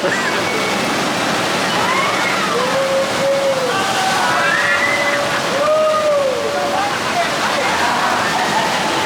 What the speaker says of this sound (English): Toon Lagoon is pretty much like the water ride area of the park.